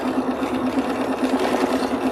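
A home sewing machine with a large throat runs steadily, giving a continuous, fairly loud mechanical hum with a fine rapid stitching pulse that stays even throughout.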